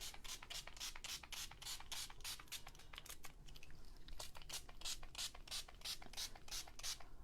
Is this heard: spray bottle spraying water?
yes